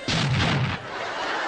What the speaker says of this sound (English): There's a bomb!